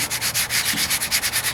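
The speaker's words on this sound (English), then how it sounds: "I'm just no pressure at all on this sandpaper." Sandpaper rubbed by hand over Bondo filler on the driver's side wheel arch of a 1998 Ford Ranger, a close, even rasping in quick regular back-and-forth strokes with no voices.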